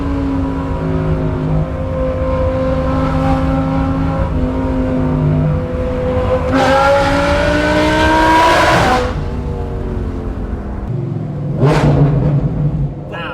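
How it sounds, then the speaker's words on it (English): Loud Audi R8 engine revving close by, a sustained idle climbing into two sharp, high revs with quick drops back down. "Now, what sounds better, this car or Frankie's?"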